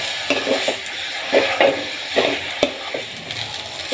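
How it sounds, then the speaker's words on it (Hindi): Masala fries in oil for chicken biryani with a crackling sizzle, while a spatula stirs in rhythmic, rising scrapes about every half second, close and fairly loud, with no talking. "मसाला हम लोग का भून चुका है अच्छे से, देखिए ऑयल भी रिलीज हो गया है।"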